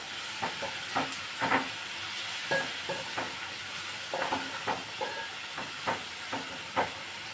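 Tomatoes with salt and buttermilk cook in a pan, a soft steady hiss under a series of sharp scraping stirs and taps from a utensil, close and fairly quiet, with no talking.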